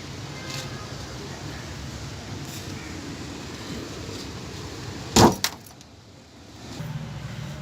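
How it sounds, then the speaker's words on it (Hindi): The rear hatch of a 2011 Daihatsu Atrai wagon, a 660cc automatic, slams shut with one loud thud and a quick softer rattle after it, over a steady hum of outdoor background noise. "तो डिग्गी बंद करते हैं।"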